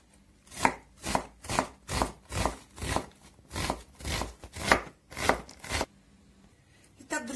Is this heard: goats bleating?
no